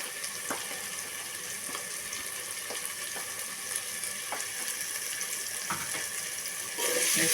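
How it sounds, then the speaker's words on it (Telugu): Potato and brinjal curry with turmeric and chili powder fries steadily in a pan, a continuous close sizzle with a few soft stirring knocks and a louder burst of hiss near the end. "కొంచెం అలా వేపుకోవాలి"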